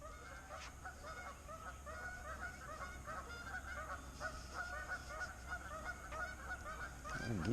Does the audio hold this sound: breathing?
no